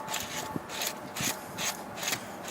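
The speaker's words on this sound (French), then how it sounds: "Fait que là, on va visser ça." A pipe fitting being screwed into place by hand, with repeated rubbing, rasping turns in a steady rhythm of about five strokes, close and moderately loud with no voices.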